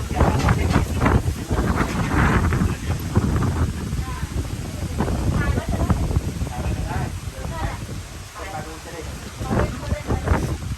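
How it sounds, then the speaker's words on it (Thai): Heavy, blustery wind from a storm with rain buffets the microphone throughout, roaring in loud gusts while a person talks underneath. "ลมแรง"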